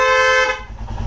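Horn of a Royal Enfield Himalayan motorcycle, one steady loud honk up close that cuts off after about half a second, followed by the low rumble of the idling engine.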